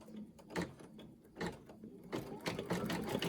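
A sewing machine stitches an appliqué through double fabric in close, uneven bursts of rapid mechanical clatter, with short pauses between runs.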